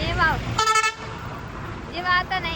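Vehicle horns toot in short bursts on a busy road near the Mahakal temple in Ujjain, one close and loud, then another fainter toot, under steady traffic noise and talk.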